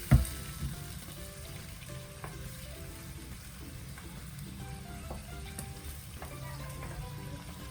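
A ginger chicken sauce with ketchup sizzles and fries steadily in a pan, a soft continuous crackle with faint stirring clinks near the start.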